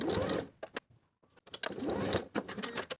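A sewing machine bastes fabric ties in place on a wrap top, running in short stitching bursts with brief pauses, close and fairly quiet.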